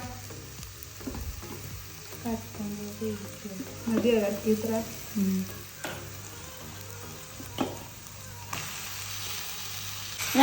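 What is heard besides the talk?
frying in a pan, sizzling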